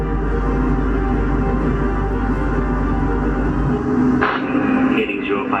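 Loud, continuous roar of F-15 fighter jet engines passing overhead at a national parade flyover in Singapore, a steady broadband rumble that shifts in tone near the end.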